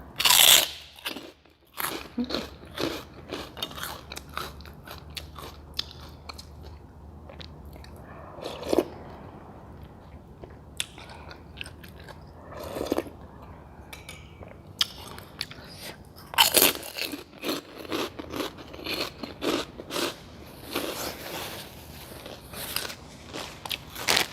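Someone eating crunchy, freshly fried pork cracklings close up, with loud crisp bites and dense crackling crunches in repeated bursts, separated by quieter chewing.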